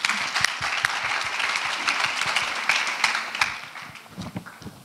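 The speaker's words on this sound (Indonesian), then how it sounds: "Tepuk tangan dulu buat Kak Lady dong." Audience applause for a guest speaker at an international relations careers session, dense steady clapping from a crowd that holds throughout and thins slightly toward the end.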